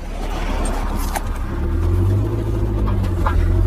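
A cafe racer motorcycle engine revs steadily up toward high RPM, a loud, continuous near drone that rises slightly in pitch and stays strong throughout.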